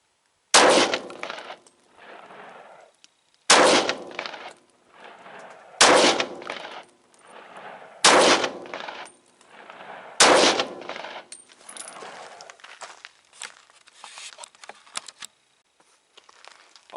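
A Glock 31 Gen4 pistol fires .357 SIG rounds loaded with 124-grain Hornady XTP bullets over Longshot powder: five loud, sharp shots spaced about two seconds apart, each with a short echo, followed by quieter clattering.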